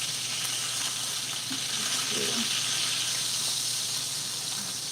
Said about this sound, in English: I'm searing it off to get the nice little char on it.